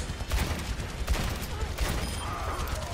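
Overwatch gunfire hammering a shield: a steady rapid stream of shots, loud and close, with thumping impacts repeating through the whole short burst.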